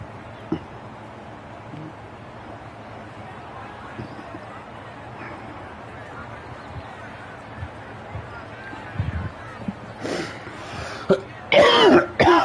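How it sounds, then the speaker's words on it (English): A person coughs and clears their throat on a golf course, a couple of close, harsh bursts near the end after quiet outdoor ambience. "Don't mind me, I'm coughing up a lung."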